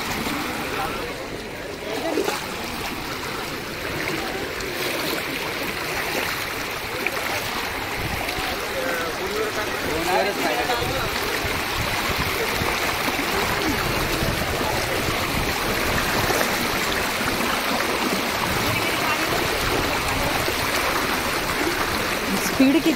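A rocky stream rushes in a constant, loud broadband wash for the whole stretch, with voices faintly underneath.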